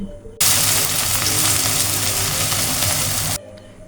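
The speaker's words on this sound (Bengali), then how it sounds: "পেঁয়াজ কুচিগুলো বাদামি করে ভেজে নিব নাড়াচাড়া করে" Chopped onions fry and get stirred in a pan while cooking a country chicken curry, a loud, steady sizzle that starts abruptly, fills about three seconds alone, then cuts off.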